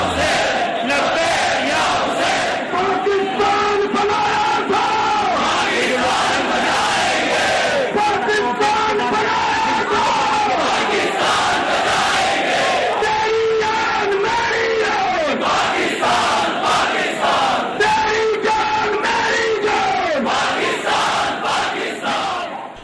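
A large crowd chants patriotic and religious slogans in unison, loud and continuous, rhythmic shouted phrases repeating over a dense roar of many voices.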